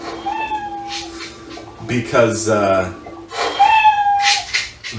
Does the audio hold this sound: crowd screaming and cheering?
no